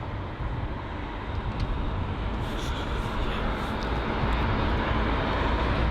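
An airliner landing at London Heathrow gives a continuous deep engine roar with broadband rushing, heard from a distance and growing slightly louder toward the end.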